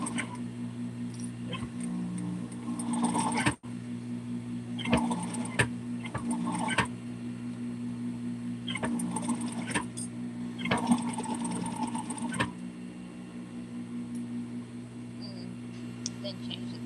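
A sewing machine runs in several short bursts while stitching a 3/8 seam around the back curve of a hat, over a constant low hum, with brief pauses between runs.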